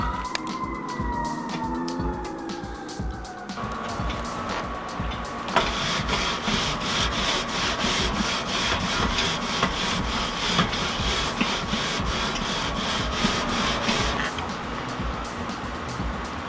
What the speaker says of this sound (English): Get some extra wood on here, make sure we don't lose the fire.